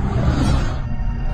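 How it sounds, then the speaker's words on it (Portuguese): A loud, deep, rumbling growl from a large beast, a werewolf, close and continuous, with a raspy roaring texture throughout. "Grunhidos."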